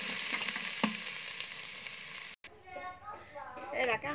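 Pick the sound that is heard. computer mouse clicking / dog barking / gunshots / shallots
shallots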